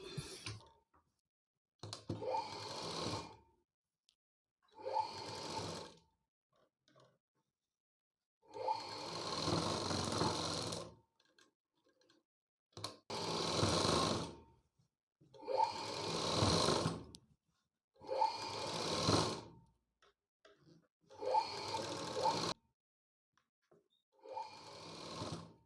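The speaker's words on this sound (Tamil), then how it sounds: "படிமான தையல் போட்டுக்கிறேன்." A sewing machine stitches fabric cut from a reused blouse in eight or so short runs, each a few seconds long and separated by pauses, fairly quiet and close with no talk.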